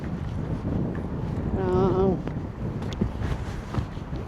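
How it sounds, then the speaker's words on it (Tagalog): Steady blustery, cold wind buffets the microphone at a rock pool on the coast at Kiama, Australia, with a brief tonal cry and some talking mixed in. "Mahangin, na malamig."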